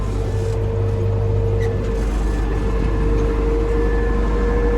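An MTZ 82 tractor steadily reversing on autopilot in a field, its engine giving a constant loud low drone with a faint whine and no talk.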